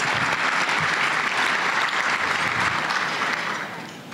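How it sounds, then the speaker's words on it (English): A breakfast audience at a youth event gives Destiny a round of applause: dense, loud clapping from a roomful of people that carries steadily, then thins and fades near the end. "let's give Destiny a round of applause."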